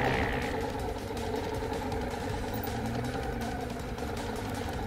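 Large motorcycle engine with the throttle held open, a steady mid-pitched drone that stays loud and even throughout, with no talk over it.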